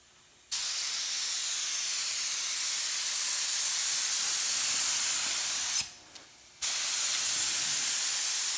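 A spray gun lays a heavier clear coat onto car paint, two long, loud, steady bursts of bright hissing air with a short pause between them, starting and cutting off sharply.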